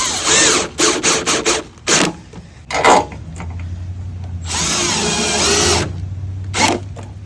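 A power drill drives screws into an aluminum storefront glass door frame in short whirring bursts, then one longer sustained run and a final brief spin, heard up close.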